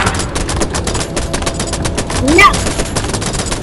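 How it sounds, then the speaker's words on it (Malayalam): Rapid gunfire in the multiplayer horror game Choo Choo Charles remake rattles continuously as dense, evenly spaced shots, with a player briefly speaking over the barrage. "വെടികെട്ടാ മൊത്തം"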